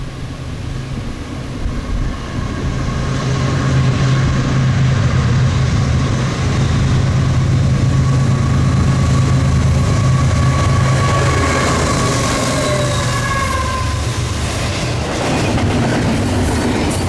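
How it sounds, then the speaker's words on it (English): An eastbound Norfolk Southern freight train led by a pair of GE Evolution locomotives rolls past close by, with a loud steady roar of engines and wheels, rail squeal and clacking that holds for the whole stretch. "Norfolk Southern 266, heading eastbound with its usual pair of bean sniffer Gevos"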